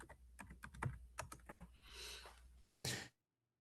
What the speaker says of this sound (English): Scott, I hear you typing.